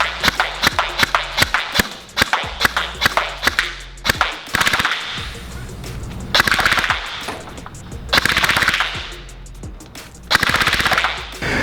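Silverback M4A1 gel blaster with a metal gearbox firing through a chronograph, rapid mechanical shots in fast bursts and runs, loud and close, with brief pauses between strings.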